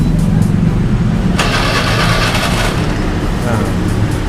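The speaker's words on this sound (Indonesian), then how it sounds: "Coba kita starter." A Honda Scoopy fuel-injected scooter with a fault that keeps it from revving is cranked on its starter, giving a short burst of whirring engine noise with a voice talking alongside.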